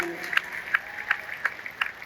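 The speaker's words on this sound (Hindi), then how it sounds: "अपने आप थोड़ी सी ताली बजा दो अगर अच्छी बात लग रही हो तो" A small audience at a business talk claps in a thin, scattered way, with sharp regular claps about every third of a second over a faint steady background hum.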